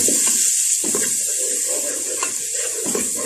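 Water is poured from a measuring vessel into a pot of rice with chicken powder for Arabian-style chicken rice, a steady splashing rush that runs continuously and close by with no talking.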